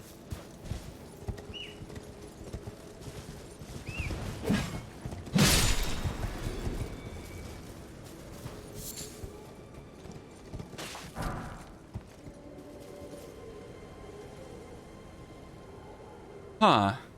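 Horse hooves clip-clop in the open world of Elden Ring, a loose, intermittent patter under a player talking, with a louder thump partway through and another near the end.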